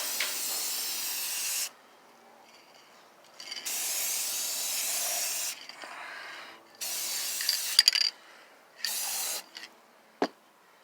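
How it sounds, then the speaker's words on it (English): Several long bursts of rust-protector aerosol spray paint hissing onto metal, each a few seconds, separated by pauses, with a few short spurts near the end; close and fairly loud. "I'm using rust protector, this spray paint"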